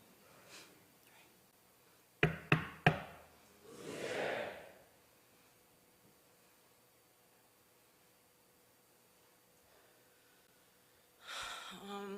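Three sharp knocks land in quick succession at a funeral Mass, fairly close and loud, followed by a soft breathy murmur and then quiet room tone.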